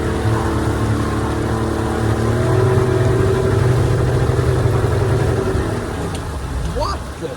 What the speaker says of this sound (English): When I started the engine again, it didn't idle very good.